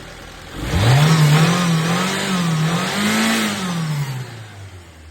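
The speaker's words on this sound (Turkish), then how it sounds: "Ama motorumuz ilk defa çalıştı şu an." A rebuilt car engine catches for the first time and revs, rising quickly to a steady, throaty drone that wavers up and down before settling back toward idle, close by and with no voices.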